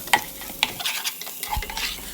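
Soaked rice being stirred and fried in ghee in a pan, a few scraping stirs and light sizzles, close and fairly quiet.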